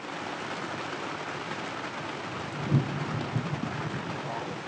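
Rain hisses steadily over a sailboat at sea during a storm, and a couple of low thunder rumbles roll in partway through, swelling briefly above the downpour.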